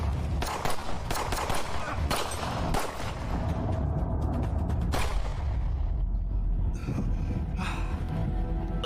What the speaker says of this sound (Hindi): गोलियां चली।